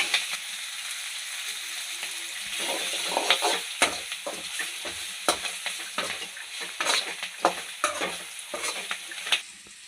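Steady frying sizzle of green chillies in hot oil with repeated stirring scrapes and clinks from a utensil, close and continuous, no voices.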